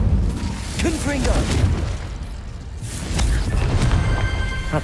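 A Confringo fire spell explodes in Hogwarts Legacy, a loud booming burst followed by rumbling crackle, with a brief character voice and another blast swelling near the end.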